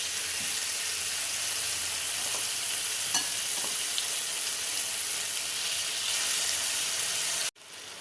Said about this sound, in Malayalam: എണ്ണ ചൂടായി വരുമ്പോൾ നമുക്ക് ഉരുളക്കിഴങ്ങ് നമുക്ക് ഇട്ട് കൊടുക്കാം